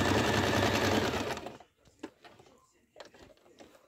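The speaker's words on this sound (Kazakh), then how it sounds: "Енді қазір мен тігіп бастаймын." Sewing machine stitching the folded edge of fabric for a patchwork cushion, a loud, close, dense mechanical whirr for about a second and a half, then stopping, leaving only a few faint clicks and handling sounds.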